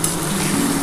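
Crab curry masala with tomato sauce sizzles and fries steadily in a pan while being stirred, a brief close hissing sound with no talking.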